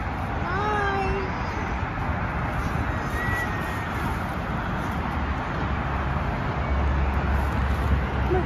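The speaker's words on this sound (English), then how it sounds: "What a good kitty." A newly rescued cat gives a few short meows early on, then one more later, faint against steady outdoor traffic hum and background noise.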